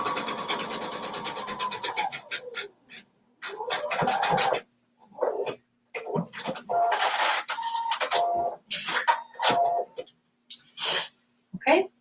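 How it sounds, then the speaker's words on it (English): A sewing machine stitches fabric for a kimono self-fabric belt at a regular 3.0 mm stitch, with bursts of rapid mechanical whirring separated by pauses and rustling handling. "So you're going to start by sewing right sides together, the short end first."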